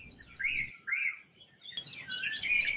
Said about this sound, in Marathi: ही आहे राखी डोक्याची मैना.